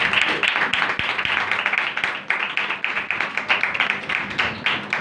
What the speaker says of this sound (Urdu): یسوع کے لیے ایک بار زوردار تالی